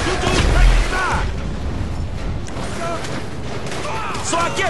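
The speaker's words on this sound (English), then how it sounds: "So I guess we shooting our way out of here!" Gunfire in Grand Theft Auto V during a shootout against Merryweather forces, with rapid bursts and booms early on and scattered shots later, while players shout over the action.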